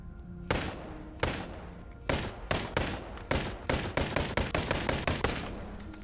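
Rapid bursts of turret gunfire in the Boneworks VR video game, a dozen or so loud sharp volleys in uneven clusters, growing quicker and denser toward the end, with no talking.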